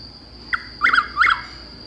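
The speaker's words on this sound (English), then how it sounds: "This one stays to nest our chuckwill's widow. Chuckwill's widow. It's a night jar." A chuck-will's-widow nightjar calls in a short series of rising, whistled notes, clear and fairly close over quiet background with a faint steady tone.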